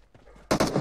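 Gunfire from PUBG Mobile, a quiet lead-in followed by a loud, close burst of two or three rapid shots.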